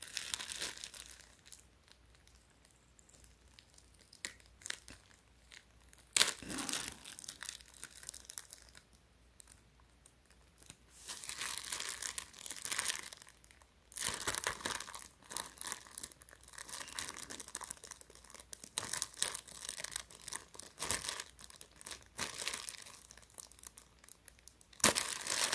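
Clear tape being peeled and a plastic bag crinkled open, holding a Nike Air Jordan x Travis Scott Cactus Jack black tee; bursts of close crinkling and tearing alternate with quieter handling throughout, no talking.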